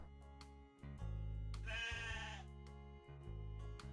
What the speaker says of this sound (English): These little guys here, like the sheep, I call them the Cheer Sheep.